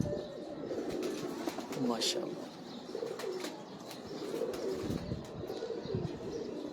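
Old-breed Chosha pigeons of the Sakhi Bhatti line coo steadily and softly in the background, with scattered chirps and a short spoken exclamation over them.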